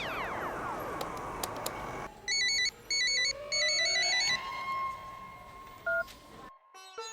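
A phone keypad beeps out several dual-tone dialing tones in quick bursts, then a rising ring tone. Faint room noise sits underneath.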